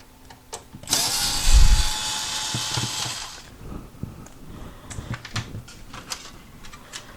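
A power screwdriver takes ground screws out of a Pioneer VSX-D608 receiver that is stuck on full volume. It gives one whirring burst of about two seconds, followed by scattered clicks and light metallic handling noises close by.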